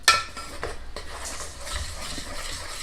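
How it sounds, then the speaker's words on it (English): A spoon stirs confectioner's sugar into just-boiled milk for a boiled chocolate cake icing, giving soft, continuous scraping and swishing in a pan with a few light clinks, close and steady, no talking. "if you'll stir that, that's confectioner's sugar that we're mixing in"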